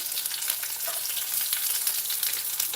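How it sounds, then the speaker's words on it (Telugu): Raw tamarind and green chillies sizzle steadily in a hot pan, a continuous close hiss of frying with a few faint stirring touches and no talking. "చింతకాయలు వేసేసుకొని కొంచెం ఇలా మగ్గితే సరిపోతుంది"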